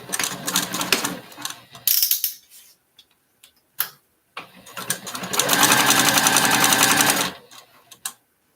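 A sewing machine stitches the sides of a piece close to the zipper tabs, running in start-stop bursts with a steady mechanical whir and rapid needle ticking, the longest burst near the end, with short pauses between.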